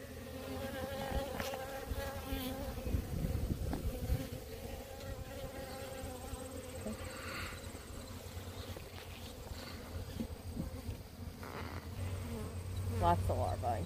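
Honeybees buzz steadily around an open beehive during an October hive check, a continuous close drone with a few louder passes as individual bees fly near.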